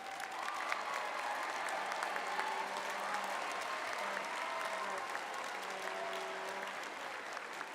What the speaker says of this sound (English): Now, give them a big round of applause first.